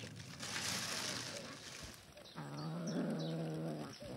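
Cats meow and growl while being fed fish by the water, close and clear, one drawn-out meow standing out over a rushing background.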